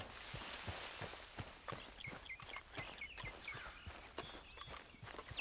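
Hoofbeats of a horse in Red Dead Redemption 2 thud in a steady walking rhythm, fairly faint, with birds chirping in the background.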